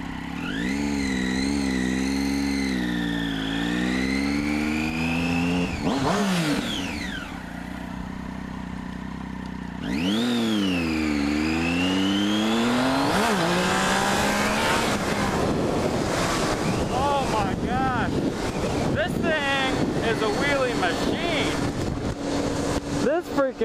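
A 2009 Triumph Street Triple motorcycle engine revs up in rising sweeps, drops, then climbs hard again as the bike lifts into a wheelie, loud and close with a rough, busy roar toward the end.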